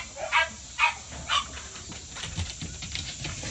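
An American Bully puppy gives three sharp, high yips close by in even succession, followed by softer whimpering and rustling noises in a kennel.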